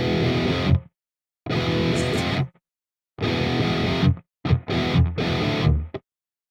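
Distorted electric guitar riff with palm-muted notes, played in several short bursts separated by silences, loud and close with no talking.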